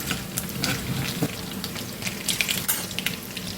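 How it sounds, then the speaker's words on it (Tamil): Split urad dal fries in hot oil in a pan while a Tamil egg gravy is being prepared, a steady close crackle and sizzle with tiny pops throughout and nobody talking. "இது நல்லா பொரியட்டும்"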